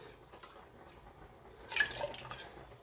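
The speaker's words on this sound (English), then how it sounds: "I'm just going to rinse this can, swish it around" Water rinsed and swished around inside a can while cooking turkey spaghetti: quiet faint sloshing with small drips, rising to a brief louder splashing burst partway through, then settling back down.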